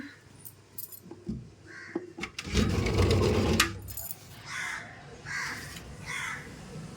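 A crow caws repeatedly outdoors in short harsh calls, with a brief burst of loud metallic clattering and jangling in the middle before more caws follow.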